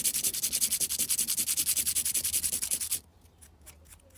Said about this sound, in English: you just sand that nib, and you just sand until you can't see any raised area